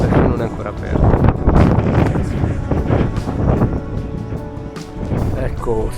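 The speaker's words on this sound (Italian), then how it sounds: "c'è vento molto forte oggi" Strong wind gusts buffet the microphone in heavy, irregular blasts on a hiking trail on Anafi, with a person talking underneath the roar.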